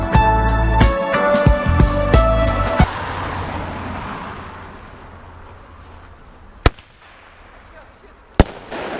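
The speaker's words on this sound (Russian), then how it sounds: "Для тех, кто досмотрел видео до конца, небольшой салют." A small fireworks salute set off at the end of a winter bottom-line fishing trip on the Moksha River: dense crackling bursts for a few seconds, a fading rumble, then two sharp isolated bangs.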